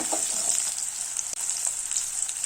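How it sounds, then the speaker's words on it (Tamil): Garlic cloves and slit green chilies sauté in hot oil in a pan for a dried-fish kuzhambu, giving a steady, close, bright sizzling hiss with small crackles and one brief dropout. "இது எல்லாத்தையுமே நல்லா வதக்கிக்கோங்க."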